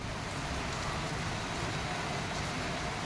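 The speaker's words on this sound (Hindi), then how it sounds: "कितनी तेज़ बारिश हो रही है" Heavy monsoon rain pours down in Delhi as a dense, even roar of drops on surfaces that never lets up, with no one speaking.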